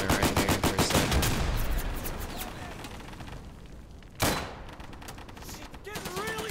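An MP40 submachine gun fires rapid bursts in a WWII tactical shooter video game, with a dense rattling volley at the start, a sharp loud shot partway through, and scattered distant gunfire, while a voice talks over parts of it.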